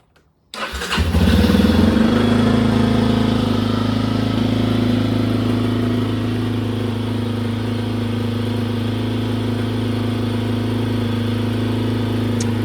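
A carbureted Yamaha XT250 dual-sport motorcycle engine catches on the choke after a brief crank and settles into a loud, steady, close idle with a constant low hum.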